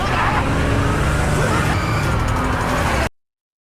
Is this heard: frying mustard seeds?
no